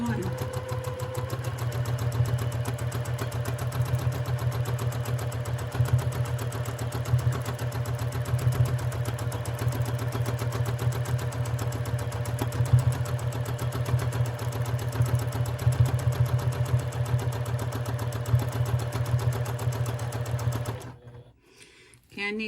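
A sewing machine stitches through quilt batting with a steady, close whirring drone that runs unbroken for about twenty seconds before stopping abruptly.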